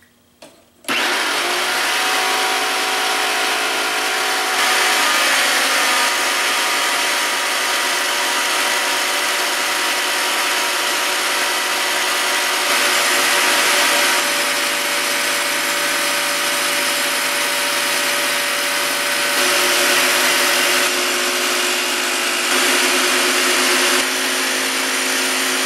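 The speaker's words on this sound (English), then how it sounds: "So that was able to make a very nice clean cut on this ceramic floor tile" A Rockwell Bladerunner X2 tabletop saw cuts through ceramic floor tile, starting up abruptly and then holding a loud, steady high-pitched whine with a gritty grinding edge that runs unbroken for over twenty seconds.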